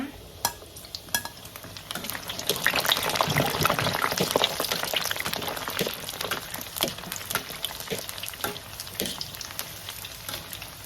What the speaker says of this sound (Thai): แล้วก็ใส่ปั้นครีปของเราลงไปทอดเลยนะคะ